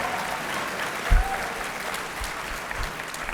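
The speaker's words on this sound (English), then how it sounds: "Clap for me." A small studio audience on a podcast breaks into applause, a dense, close patter of hand claps lasting a few seconds with no words over it.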